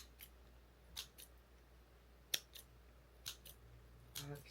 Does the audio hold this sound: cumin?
no